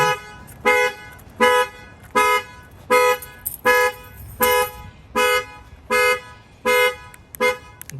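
A 2021 Ford Mustang factory alarm set off through an add-on shock sensor by banging on the car: a loud horn sounds in steady, evenly spaced honks, about ten in a row, with no talking.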